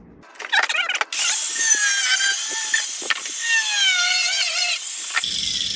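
An angle grinder bites into the metal airbox mount of a Jeep JK, its high, screeching cutting whine sustained and loud for several seconds after a brief spin-up, then cutting off abruptly.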